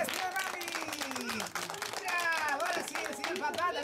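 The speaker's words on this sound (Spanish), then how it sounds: "¡Aplauso fuerte a la señora Gaby!" Guests clap at a christening and first-birthday party for a little girl, a dense, steady patter of hands that mixes with voices talking and calling out throughout.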